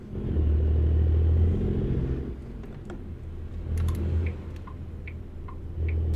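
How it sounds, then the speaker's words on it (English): Turn signal of a truck in American Truck Simulator ticks in a regular, evenly spaced rhythm over the low rumble of the engine, which surges and eases in the background. "The blinker is almost as loud as the engine."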